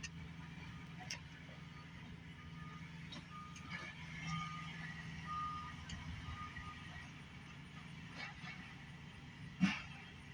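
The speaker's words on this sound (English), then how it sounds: "Nope, debris truck. It's a debris truck." A debris truck backs up on a flood-damaged street after Hurricane Helene, its reversing beeps repeating faintly at a distance over low engine rumble and outdoor background noise.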